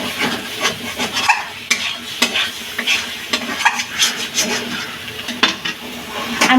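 Cauliflower leaves fry in oil in a pan, a steady loud sizzle running throughout with repeated scraping and stirring strokes, no voice over it.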